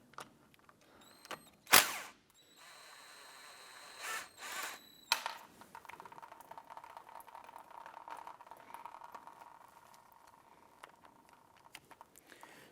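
Tool work on the front brake caliper of a 1997-2006 Jeep Wrangler as a 14mm bolt holding the flex hose is loosened and removed: a few sharp metallic bursts and clicks, then quieter ratcheting and rattling.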